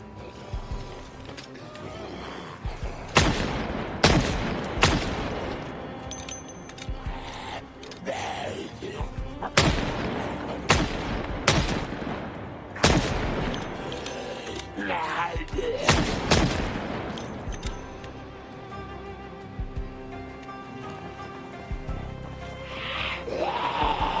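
Shotgun blasts against zombies in the Project Zomboid video game, loud booming shots spaced irregularly across the clip among game effects, with no voices.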